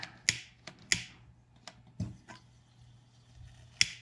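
A dying lighter is flicked several times, with sharp clicks and brief sparking scrapes spaced irregularly, close up in a quiet room, while lighting a gas or propane lantern mantle.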